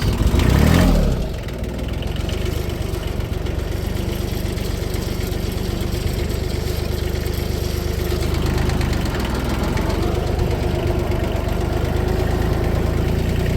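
A heavy 180 hp tractor engine idles steadily nearby with a low, constant rumble that holds for the whole stretch after a brief louder burst at the start.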